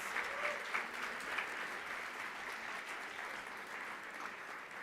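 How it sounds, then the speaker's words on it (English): Audience at an awards ceremony and graduation celebration applauds for sponsors: a faint, even, distant patter of many hands clapping that holds steady without pause. "Please join me in applause for our sponsors"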